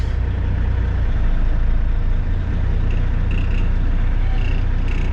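A Kenworth W900 truck pulling a hooked trailer uphill out of town, its engine a loud, steady low drone throughout with faint road noise and no talking.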